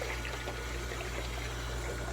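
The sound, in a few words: water flowing through pool filter during backwash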